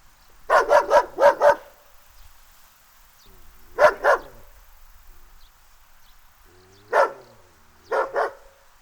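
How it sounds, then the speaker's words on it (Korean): A Jindo dog barks close and loud in short bursts: a quick run of four or five barks, then a pair, a single bark and a final pair, with silence between. "사람들아, 개 짖는 소리를 들어라."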